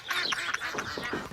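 A duck quacks in a quick run of nasal, raspy calls, close and moderately loud, packed into just over a second.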